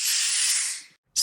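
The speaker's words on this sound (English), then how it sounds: "turns back to the coffee machine. He steams milk" A coffee machine's steam wand hisses loudly and steadily while steaming milk, cuts off abruptly, then a second short burst of hiss starts after a brief silence.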